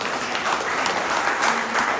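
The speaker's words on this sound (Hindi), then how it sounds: "एक बार इनके लिए जोरदार तालियां बजाएं" Audience at a political rally in Shahjahanpur applauding steadily, a dense continuous wash of clapping that holds at an even level throughout with no voices standing out.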